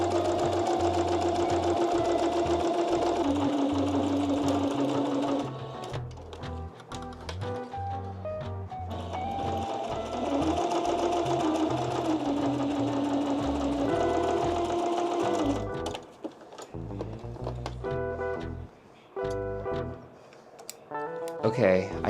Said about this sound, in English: let's keep sewing.